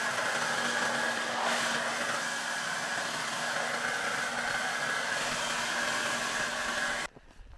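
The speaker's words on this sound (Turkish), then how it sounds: "benim de saç kurutma makinem var." A hair dryer blows with a steady, even whoosh and a faint motor whine, running continuously for about seven seconds before cutting off abruptly.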